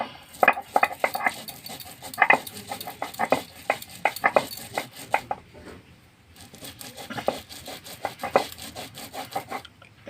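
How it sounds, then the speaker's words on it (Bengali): Soaked masoor lentils and a green chili are ground by hand on a stone, giving rhythmic gritty rubbing strokes, close and steady with a brief pause midway, no voices. "এইভাবে ডালটাকে বেটে নিতে হবে।"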